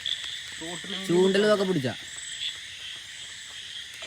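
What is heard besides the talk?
frogs croaking at night beside a stream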